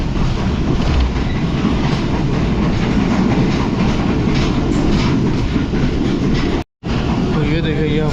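Karachi Express passenger train running at speed in winter, a loud continuous rumble of wheels and carriage rattle heard from inside the coach, with a momentary cut in sound near the end and a squeal after it.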